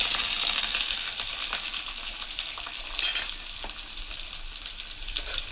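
Onion, garlic and curry leaves fry in hot oil after mustard seeds have popped, for a Kerala breadfruit stir-fry; a continuous close sizzle with brief stirring scrapes and no talk.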